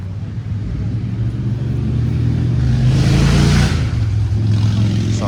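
Ducati motorbike engine revving nearby at a woodland car park gathering, a deep throaty rumble that swells to a louder peak before easing off.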